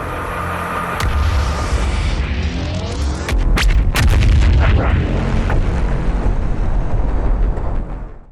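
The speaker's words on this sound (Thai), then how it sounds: "BFG 10000ปืนใหญ่ต่อต้านปีศาจยานที่มีพลังทำลายล้าง มากพอจะระเบิดผิวของ ดาวอังคารให้เป็นจุน" Firing of the BFG 10000 anti-demon cannon in the Doom video game: a rising charge-up followed by heavy booming blasts and crackling bursts, loud and close, rumbling on before cutting off abruptly.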